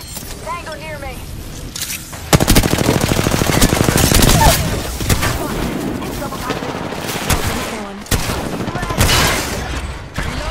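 Automatic and rapid gunfire from the Apex Legends battle royale game, with sustained loud bursts of shots and brief pauses between volleys, mixed with game effects and voice chatter throughout.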